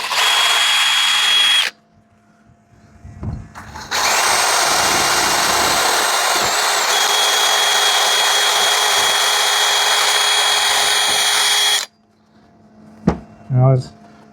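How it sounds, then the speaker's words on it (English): A wire wheel on a power tool grinds an old Sprinter campervan roof, a loud, close, steady whine in two bursts, the longer one lasting about eight seconds, with handling knocks and a brief voice in the quiet gaps. "It's a wire wheel."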